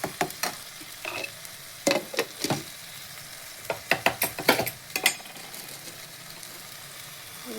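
Mushrooms stir-fried with masala in a pan, a soft background sizzle broken by irregular sharp scrapes and clacks of a spoon against the pan in quick clusters, close and fairly quiet.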